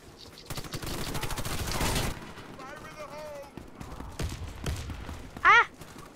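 Gunfire in Warface on PC: bursts of rapid shots crackle loudly over the opening seconds, then scattered blasts follow while a voice speaks and tonal game sounds chirp.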